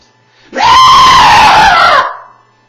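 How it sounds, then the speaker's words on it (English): A performer lets out one loud, sustained scream as a character during a dramatic reading of a children's story, rising sharply, holding for about a second and a half, then fading. "But then, suddenly, out of nowhere, Leslie screamed."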